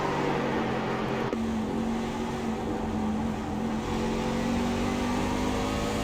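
Racing truck engines drone and whine continuously in a virtual truck race video game, a steady mid-pitched mechanical hum with shifting tones, no voices heard.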